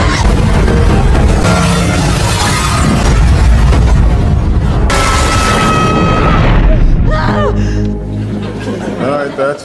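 A building blowing up from a gas leak in a film: heavy booming blasts and rumbling debris fill the scene, loud and sustained, with voices and gasps mixed in before the roar tapers off.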